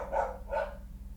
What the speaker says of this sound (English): Sorry about the dogs. That's literally unavoidable.